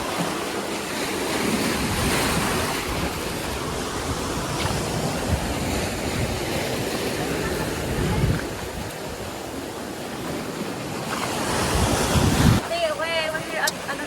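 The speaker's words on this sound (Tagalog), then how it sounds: "Grabe yung alon." Big ocean waves crash and roar on Boracay beach at low tide under strong monsoon winds. The surf is a continuous close wash, with heavy wind buffeting the microphone.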